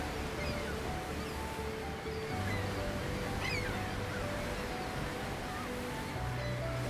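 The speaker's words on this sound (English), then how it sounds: "waves roll onto the beach" Steady wash of surf rolling onto a sandy beach in Mexico, a continuous broad roar with gentle surges, moderately loud and close, no voices.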